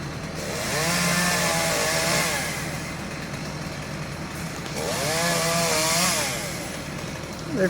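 A chainsaw cuts into a large maple tree outdoors. Its engine rises into two long revving bursts with a steady idle between them, loud and fairly close.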